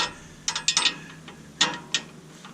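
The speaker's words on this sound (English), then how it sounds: "what you have to do is use a wrench and hold this with a separate wrench and turn off this nut" A wrench turns a nut on a DIY truck lift, giving a series of sharp metallic ratcheting clicks in two bursts, close and fairly loud, with no talking.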